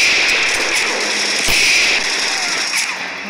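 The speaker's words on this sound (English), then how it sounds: "Let's take the shotgun." Gunfire bursts from a shotgun in the World War Heroes WW2 first-person shooter game: loud, crackling overlapping shots packed across a few seconds, with a sharp blast near the middle.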